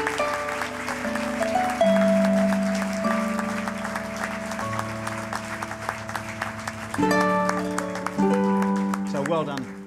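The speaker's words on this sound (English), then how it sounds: "So another round of applause, please." Applause from the crowd at the Swimming New Zealand awards gala in 2014, honouring swimmers from the New Zealand Open Championships. It is steady, sustained clapping lasting throughout, mixed with loud music.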